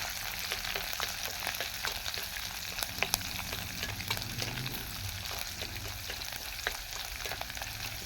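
Chopped onion and urad dal sautéing in a clay pot over a wood-fired stove, a continuous soft sizzle broken by frequent crackles and spoon scrapes, close and fairly quiet.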